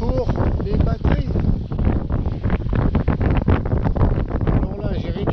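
Steady wind rushing across a sailing boat at sea, loud and continuous with gusty rustling throughout and no break in the noise.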